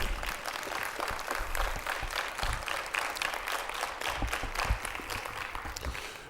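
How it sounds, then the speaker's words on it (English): An audience at a seminar on building wealth gives a round of applause, a moderately distant, steady patter of many hands clapping that lasts several seconds without voices on top. "Let's give Dr. Bacon another round of applause."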